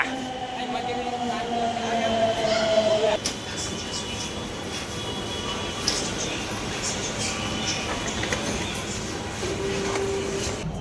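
A crowded metro train rumbles along with a steady low roar and rattling, a brief rising whine and a few clunks, while people talk over the noise near by.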